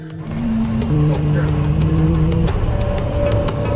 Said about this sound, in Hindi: हाँ हाँ, मुझे भी लगा शायद कोई बस की आवाज आ रही है पीछे से।